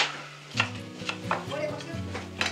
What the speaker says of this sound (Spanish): Picando ya los pimentones, morrones.